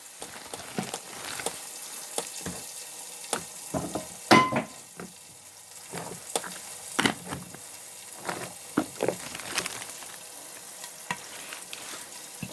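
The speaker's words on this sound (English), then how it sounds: "I'm going to close it to simmer a little bit." A pot of raw peanut soup with dry nettle leaves simmers and is stirred. Irregular soft bubbling, clinks and scraping sounds come up close over a low, steady sizzle, with no talk.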